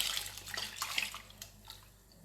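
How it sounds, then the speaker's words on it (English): Coconut milk poured into cornmeal porridge in a home kitchen, a soft continuous liquid pour with faint splashing, close and quiet, tapering off toward the end. "So I'm gonna add a cup of coconut milk."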